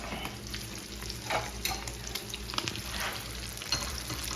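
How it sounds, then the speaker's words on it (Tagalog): Fish fries in hot oil in a pan, giving a continuous close sizzle and crackle with occasional spatter pops, steady throughout and without talk. "Ayan yung isdang piniprito, nadurog na."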